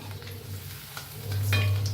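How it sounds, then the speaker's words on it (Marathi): Pieces of food frying in hot oil in a pan on a home kitchen stove, a steady close sizzle and crackle that swells louder toward the end over a low hum, with no talking. "चांगले असे तळून घ्या आणि गॅस कमी करा"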